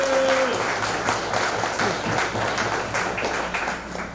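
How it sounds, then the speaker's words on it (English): An audience at a launch and fundraiser gives the Consul General a round of applause: many hands clapping steadily, beginning after a brief tone and gradually tapering near the end. "I'd like you to give her a big round of applause."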